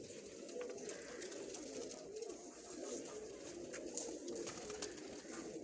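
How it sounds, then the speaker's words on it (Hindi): Pigeons from a loft of high-flying birds coo low and soft in an outdoor setting, the murmuring calls blending into a steady, faint, busy background of rustling and ambient noise with no talking. "ये उनके कबूतर हैं"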